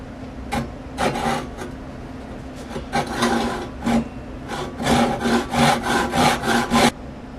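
Handsaw cutting wood for a guitar neck pocket template in an indoor shop, close rasping strokes in irregular bursts that quicken into a steady back-and-forth rhythm near the end.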